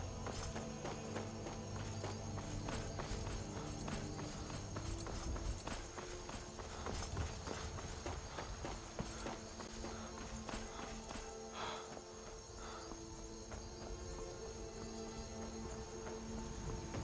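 Horse hooves clip-clop in the video game Skyrim, a steady faint run of hoofbeats under a dense ambient bed with no voices.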